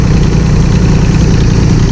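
An old garden tractor engine that may need its rings seated runs loud and close, a steady low idling rumble with even pulsing vibration and no voices.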